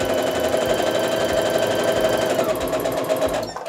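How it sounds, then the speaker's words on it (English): A sewing machine stitches a quilt block in a rapid, steady mechanical rattle up close that slows and stops at the end. "we're going to put it through the sewing machine."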